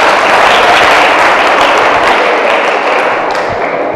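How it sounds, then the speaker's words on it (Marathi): An audience applauds a correct answer at a quiz event, giving a dense, loud, steady wash of clapping from many hands for several seconds without any talking. "टाळ्या वाजून अभिनंदन करा"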